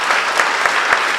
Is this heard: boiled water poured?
no